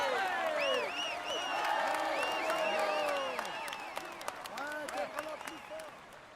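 A Tour de France crowd applauds and cheers the yellow jersey wearer, with clapping and whoops rising and falling while a commentator's voice runs over the top.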